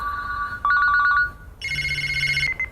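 An electronic telephone ring sounds loudly and alone, bright beeping tones that trill briefly, pause, then resume at a higher pitch.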